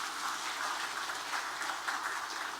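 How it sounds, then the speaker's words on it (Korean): A church congregation claps at a Christmas service, a steady wash of applause that holds at an even level throughout with no voices over it. "박수 한번 해주시죠."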